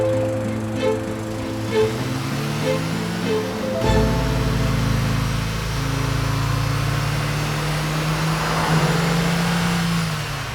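A car is driven with a steady engine drone, shifting pitch as it accelerates around the middle, then a continuous smooth hum with road noise, moderately loud.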